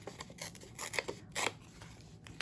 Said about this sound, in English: I am going to rip the top off and then rip another layer